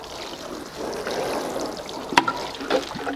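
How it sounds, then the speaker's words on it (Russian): Clean water poured onto soil before sowing asters, a soft continuous trickle and splash with a few sharper drips toward the end. "Сначала мы почву проливаем чистой водой."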